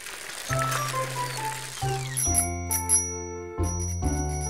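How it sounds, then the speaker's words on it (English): A bicycle bell rings several times in bright metallic bursts, each ding lingering and overlapping, clear and close with no talking. "That's the bell of Rat's bike"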